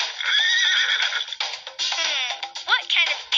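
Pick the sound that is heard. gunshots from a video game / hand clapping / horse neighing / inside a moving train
horse neighing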